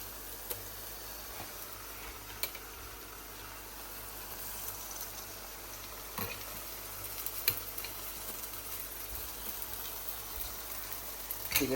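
Beef frying in oil in a pan as ginger garlic paste goes in, a steady soft sizzle with occasional faint ticks and clinks of a utensil, close and without talk.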